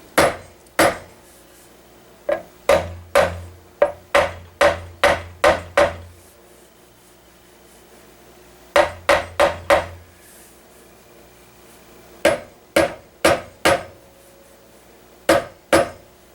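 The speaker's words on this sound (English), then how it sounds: "Use a small hammer now, just tap around where it's poking up a little bit." A small hammer taps metal inlay into a wood workpiece, sounding as sharp, close impacts in quick bursts of several strikes with short pauses between them, irregular in rhythm and with no voices.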